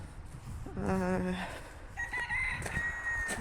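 Roosters on a small farm crow twice in quick succession, one crow followed by another, moderately near, with faint background clucking and ambient noise.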